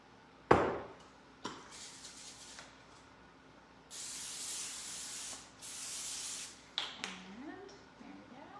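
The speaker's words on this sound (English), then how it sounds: "I always use vegetable spray," Vegetable cooking spray hissing from a can onto a pan in a home kitchen while a garden frittata is being made, in two sustained bursts of about a second each, close and fairly loud, amid light clatter.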